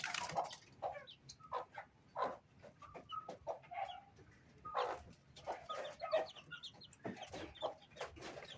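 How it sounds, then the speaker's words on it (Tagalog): Backyard chickens, a mix of newly added birds and larger ones, cluck in a steady scatter of short calls at close to moderate range, with no talk over them. "Marami-rami na rin tayong manok. Ayan yung mga bago natin."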